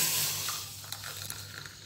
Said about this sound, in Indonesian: Saya akan siram dengan air panas.